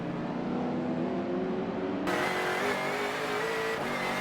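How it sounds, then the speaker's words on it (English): All-wheel-drive race cars over 2.0 litres come through the hairpin at Sydney Motorsport Park, engines droning and rising in pitch, with a brief louder surge of revving toward the end. "Engel using that all-wheel drive to get right up on the back of Algie as they come through the hairpin"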